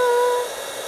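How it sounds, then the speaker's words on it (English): An embossing heat gun blowing hot air onto a snowman craft piece, a close, even whooshing hiss with a brief tonal whine at the start that fades, no talking. "Embossing gun in. We're going to heat this part up first"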